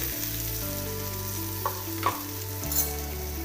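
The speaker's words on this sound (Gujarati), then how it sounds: "આપણે ટામેટા લીધેલા છે તે એડ કરી દઈશું" Tomatoes tumble into a frying pan of softened green chilies, setting off a loud, steady sizzle with a few brief clatters as they land and get stirred in.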